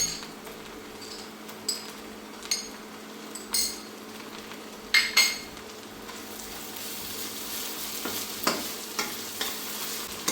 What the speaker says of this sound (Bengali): সেই জন্য আমি আদা রসুনটা একটু ভালো করে একটু ভেজে নেব।